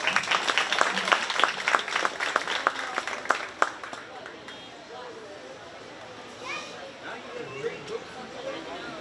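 A crowd at a county fair 4-H sheep and goat show claps for a young exhibitor, with dense applause in the first few seconds that fades into general chatter and murmuring voices.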